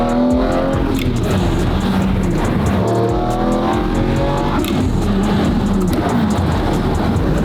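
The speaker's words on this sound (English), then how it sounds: "This car shifts really good." A carbon McLaren Senna in race mode pulls hard, its engine screaming loudly as it climbs in pitch through rapid gear shifts with brief dips between gears, heard close up and without a break.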